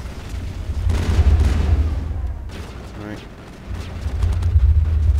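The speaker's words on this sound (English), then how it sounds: "Yeah, you can stop shooting, guys." Gunfire in the game Mass Effect comes as heavy booming bursts and rumbling volleys with a low, thudding weight. Someone talks over the shooting, which dips briefly in the middle before picking up again.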